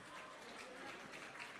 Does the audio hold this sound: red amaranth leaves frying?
no